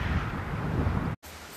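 Heavy rain shower beating down on a hill walk in the Malverns, a loud dense wash of noise and wind buffeting, cut by a brief dropout before resuming more softly.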